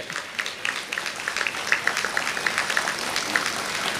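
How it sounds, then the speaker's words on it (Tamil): An audience at a motivational speech for parents claps steadily, a dense, even wash of many hands that holds at a constant level throughout. "கை தட்டணும், நல்லா தட்டணும்"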